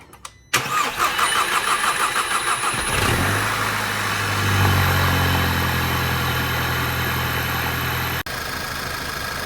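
A 2012 VW GTI engine cranks and catches with a rising roar after a cam cover seal replacement, then drops into a steady, low idle that continues close by for several seconds.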